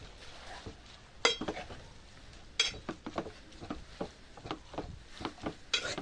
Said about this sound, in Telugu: చూసారు కదా నేను ఎలా కలుపుతున్నానో, మీరు కూడా అలాగే కలుపుకోండి